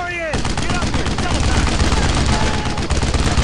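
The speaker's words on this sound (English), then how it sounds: "he's going for that fucking machine gun!" Machine gun fire in the World War II shooter game Brothers In Arms: Road To Hill 30, loud, dense and continuous bursts with overlapping gunshots filling the whole stretch.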